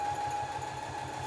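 A sewing machine with a feeder foot stitches a heavy blackout drapery seam, giving a steady, close mechanical whir with an even hum and rapid rhythmic needle pulsing throughout.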